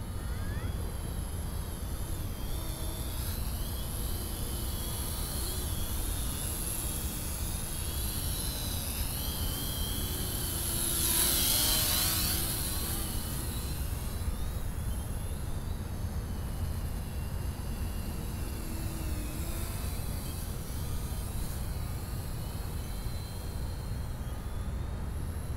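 A JT-63 foldable beginner quadcopter drone flies with a steady, continuous buzzing whir that holds even throughout and swells briefly midway as it passes closer, with no talk over it.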